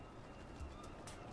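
Pigeons cooing in the video game Spider-Man 2, set in New York City; a soft, low coo sits faintly within a steady ambient city hum.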